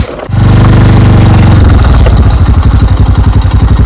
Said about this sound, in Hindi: बाइक को मैंने न्यूट्रल कर लिया है, क्योंकि यहाँ से नीचे तक अब हम चाहे तो न्यूट्रल भी जा सकते हैं।